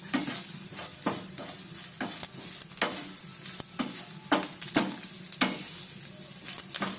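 Ingredients stirred and frying in a pan for a capsicum fry with peanut powder, chillies and salt: a steady sizzle runs throughout while a utensil scrapes and stirs in repeated strokes, close and alone with no talk.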